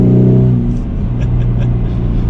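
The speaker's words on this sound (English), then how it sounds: "if I actually just go back into normal exhaust mode" A 2021 Ford Mustang EcoBoost accelerates in normal exhaust mode, giving a steady, fairly loud mid-pitched engine drone with a low exhaust hum heard from inside the car, with no talk over it.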